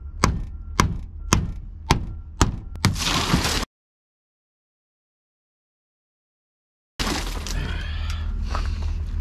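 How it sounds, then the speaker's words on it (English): A car window in a junkyard is struck several times with sharp, evenly spaced knocks before it bursts in a loud, crunching shatter. After a silent gap, glass debris rattles and scrapes up close. "I'm gonna pop this window."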